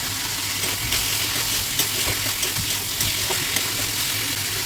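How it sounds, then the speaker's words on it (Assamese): Chopped tomatoes hit a hot pan of frying paleng spinach greens for a moong dal dish, a loud, continuous hiss and sizzle with occasional stirring clicks. "শাকখিনি অলপ ভাজি হৈ যোৱাৰ পিছত বিলাহীখিনি দি দিলোঁ"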